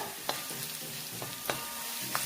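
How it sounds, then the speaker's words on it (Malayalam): Ginger and garlic sautéing in a pan for an Onam-style instant moru curry, a steady close sizzle broken by several sharp scrapes and clinks of a spoon stirring, with no voices. "എല്ലാം കൂടെ നന്നായിട്ടൊന്ന് വഴറ്റിയെടുക്കണം"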